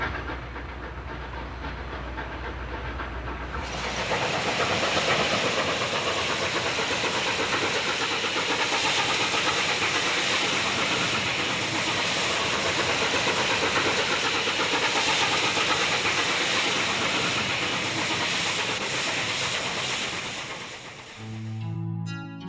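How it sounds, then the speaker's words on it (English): A steam locomotive chugs along its rails through the Colorado mountains near Silverton, a loud, dense, steady rush of noise that starts abruptly after a few seconds of low rumble and holds until it fades at the end. "A trip on its clattering rails with the chug of the dependable steam engine"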